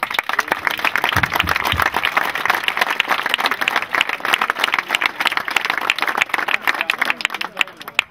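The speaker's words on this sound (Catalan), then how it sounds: "un aplaudiment per aquesta gent." Lively audience applause at a kart race event goes on throughout, dense and close, with many hands clapping at once and some voices mixed in.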